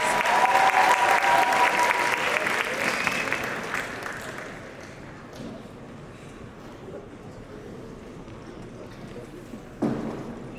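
Loud applause from an audience at a dance performance fills the first few seconds, then thins out into scattered clapping and crowd murmur, with a brief burst near the end.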